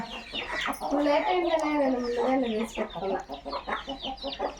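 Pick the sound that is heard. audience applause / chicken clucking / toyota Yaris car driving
chicken clucking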